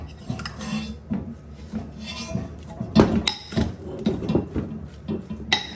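Cooked purple sweet potatoes are crushed for champ with a utensil against a pot or bowl, giving repeated irregular clinks, scrapes and soft thuds, close and moderately loud, with no talking.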